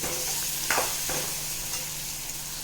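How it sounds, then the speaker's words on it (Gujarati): Boiled potato pieces stirred into a hot spice tempering in a pan for dry potato bhaji, with a soft steady sizzle and a couple of quick scraping spatula strokes close by. "તો તેમાં આપણે બાફેલા બટેટાના પીસ નાખીશું ને તેને મિક્સ કરીશું"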